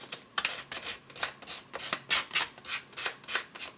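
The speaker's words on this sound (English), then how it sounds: "someplace here I have sandpaper. If I have a little spot that needs to be sanded," Sandpaper rubbed over a small spot on a handmade charm, a quick rhythmic back-and-forth rasp of about a dozen close, quiet strokes with no talk.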